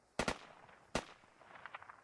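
Gunfire in a multiplayer war video game: two sharp close bursts of shots about a second apart, followed by a few fainter distant pops, with no talk over them.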